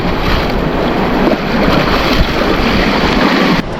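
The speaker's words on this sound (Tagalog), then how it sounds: "Lumakas ng alon." Strong sea waves slap and wash against a small boat near Sibuyan Island, Romblo, with loud, rushing splashes and heavy wind buffeting the microphone throughout.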